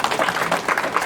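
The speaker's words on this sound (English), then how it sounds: "everybody that contributed to this event should give themselves a round of applause as well" A live audience claps steadily at a Black History Month special presentation, a dense, even patter of many hands filling the short moment without any voices over it.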